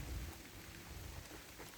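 Rain falls steadily at Tai Tam reservoir in Hong Kong, a soft, even hiss of drops with a faint low rumble at the start and no voices.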